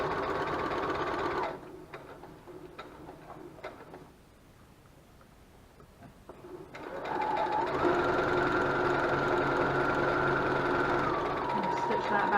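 Sewing machine running steady stitches on a braided horse tail bag, a continuous mechanical whir that pauses briefly near the middle, drops low, then resumes louder and sustained, stitching back and forth to anchor a seam.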